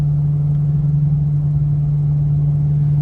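Foxbody Ford Mustang V8 cruising at about 2,000 RPM, its exhaust holding a deep, steady booming drone, loud and unbroken with a low rumble beneath and no other sounds.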